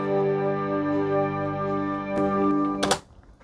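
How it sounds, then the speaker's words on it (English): Sustained guitar chords run through a Strymon SY200 synth pad effect, a smooth keyboard-like wash of tones with a brief louder swell near the end before it fades to near silence. "What you hear now is a pad from the SY200."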